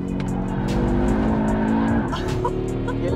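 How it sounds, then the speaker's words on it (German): An Audi RS3 five-cylinder engine roars steadily while drifting on a race track, with a continuous loud growl and high tire squeal that rises toward the end. "wenn der Fünfzylinder einmal in den Drift-Modus kommt"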